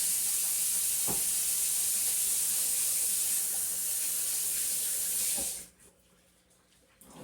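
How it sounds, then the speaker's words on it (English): Hands are washed under a kitchen tap before handling poultry. A strong, steady rush of running water continues for several seconds with a couple of faint knocks, then cuts off abruptly to near quiet. "Wash my hands."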